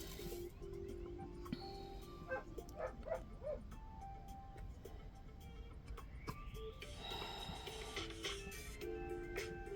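A dog barks and yips in short bursts from somewhere in the room, fairly faint and intermittent over a steady background hum.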